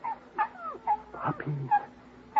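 Small puppies whimper and yip in short, high-pitched bursts, several little cries in quick succession, close and fairly soft, with no talking.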